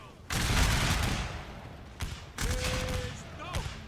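Musket volleys from a Total War battle between Mexican and French armies roar out in a few loud, crackling bursts, the first and longest near the start and shorter ones following, with a voice speaking in between.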